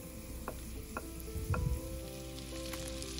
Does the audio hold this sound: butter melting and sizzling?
yes